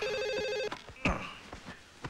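A telephone rings with a call from India in a Tamil comedy film scene, giving a short burst of repeated electronic trills before voices break in and talk over the remainder.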